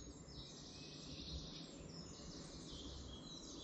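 Woodland birds chirp and twitter faintly in the distance over a quiet, steady outdoor hush, the calls soft and continuous.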